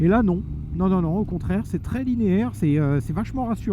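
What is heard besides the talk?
None of the usual background noises is heard.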